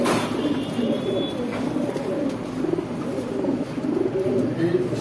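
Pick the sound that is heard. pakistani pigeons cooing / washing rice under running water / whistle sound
pakistani pigeons cooing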